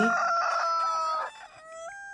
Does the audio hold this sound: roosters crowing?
yes